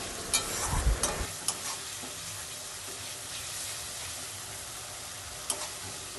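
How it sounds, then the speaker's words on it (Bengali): Spice paste for an egg curry being stir-fried in oil, a steady close sizzle with a burst of utensil scraping at the start and a few later clinks against the pan. "কষে কষে যতক্ষণ না তেল বেরোচ্ছে ততক্ষণ কষতে থাকুন"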